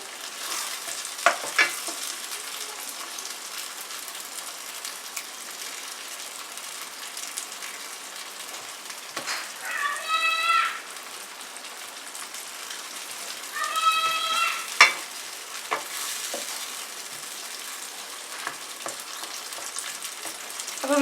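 Homemade pizza sauce simmering and sizzling in a pan, a soft continuous hiss with two short bursts of stirring and scattered light pops, no one talking.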